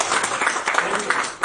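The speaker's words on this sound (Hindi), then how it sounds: "जो भी कुछ अच्छा लगे तो ताली जरूर बजाइएगा" An audience claps during a Hindi stage play, a brief dense spatter of hand claps that stays steady and close for a moment, with a hint of voices mixed in.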